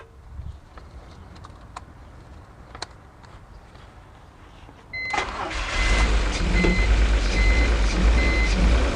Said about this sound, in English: We've got some kind of weird surging problem going on.